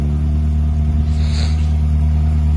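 A Morris Minor car engine, just started after six months in storage, idles steadily nearby with a low, even rumble, briefly rising in pitch as it revs.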